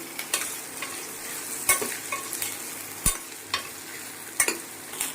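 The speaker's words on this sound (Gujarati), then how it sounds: "રીંગણા ત્યાં તેલમાં સાતરી લઈએ" Brinjals sauté in oil alongside garlic, green chillies and curry leaves, giving a soft, steady sizzle broken by sharp ladle clicks and scrapes at an irregular pace.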